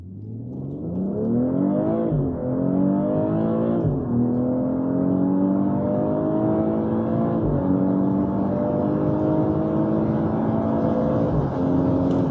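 A BMW X3 M40i or Audi SQ5 SUV accelerates hard with its engine note climbing in steady sweeps, dropping back at each automatic downshift-and-upshift, loud and close throughout with no talk.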